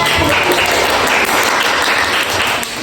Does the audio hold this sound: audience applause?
yes